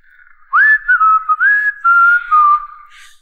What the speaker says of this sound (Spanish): Él se puso a silbar